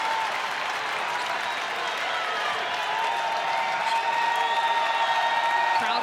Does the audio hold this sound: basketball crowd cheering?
yes